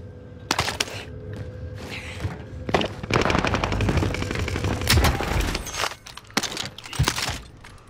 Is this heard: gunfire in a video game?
yes